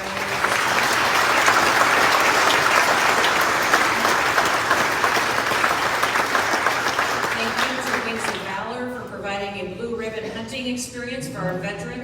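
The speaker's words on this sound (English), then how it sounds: "Can we give a round of applause to Brian?" Audience applause for Brian at an evening veterans' event, a dense, sustained clapping from a large crowd that swells early and slowly thins toward the end as a few voices rise over it.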